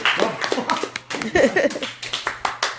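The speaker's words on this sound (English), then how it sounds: "We're not clapping for you." Church congregation clapping in uneven rhythmic bursts, fairly close, with voices mixed in underneath.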